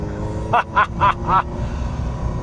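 A 1989–1993 Ferrari Mondial T engine during a double-clutch gear shift: four quick, close revving blips in a row over a steady low engine drone, heard from inside the car.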